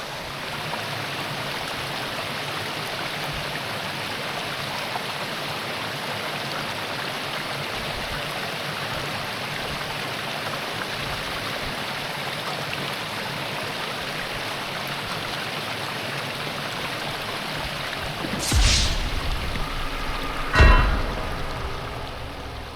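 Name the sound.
creek flowing water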